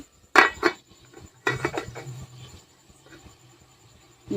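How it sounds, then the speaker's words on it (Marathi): A metal strainer is set on a pot of hot water for steaming phunke dumplings. Two sharp metallic clanks ring out close by, followed by quieter handling rattles and scrapes. "आता आपल्याला या पातेल्यावर ही गाळणी ठेवायची"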